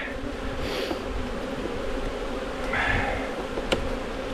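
Honey bees buzz steadily around an opened hive during a swarm inspection, a close, continuous drone with brief louder swells and no talk.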